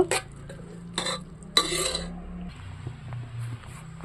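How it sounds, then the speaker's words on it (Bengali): Boiled mung dal is stirred and mashed in a pot, giving a few bursts of wet scraping and clinking against the metal, then quieter, softer stirring. "এটাকে আমি ভালো করে ঘেঁটে নেব"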